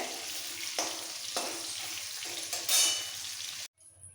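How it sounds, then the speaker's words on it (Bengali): Vegetables for a coconut sukto frying lightly in a pan, a steady close sizzle with a few stirring scrapes, ending abruptly in near silence. "এই সবজিগুলো হালকা ভাজা হয়ে গেছে"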